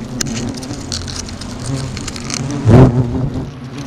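Hornets buzz around their nest, with a low, wavering drone close by and one louder buzz sweeping past the ear near the end.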